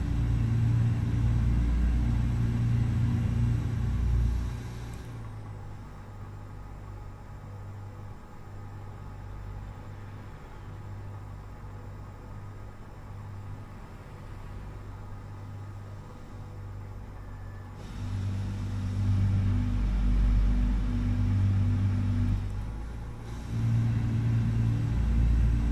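Freightliner FLD truck in American Truck Simulator, heavy diesel engine rumbling steadily at low pitch, easing off to a quieter drone mid-way before the deep growl returns; any turbo whistle stays faint and buried.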